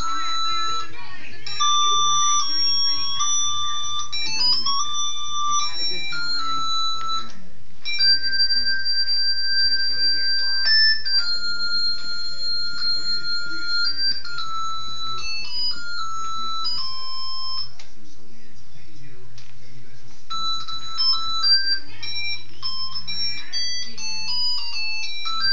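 A coin-operated fun machine plays its looping electronic timer song, a bright, steady chiming melody of beeping tones that runs continuously at moderate loudness with no pauses.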